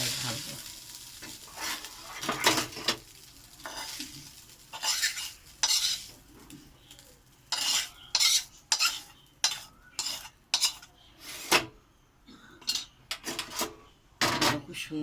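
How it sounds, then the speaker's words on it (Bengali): Bengali-style fried rice (bhat bhaja) scraped from a pan onto a plate with the gas off: repeated short metallic scrapes and clinks of a spatula, in irregular bursts with brief pauses, fairly close and with no talking. "এরপর আমি থালায় ঢালবো"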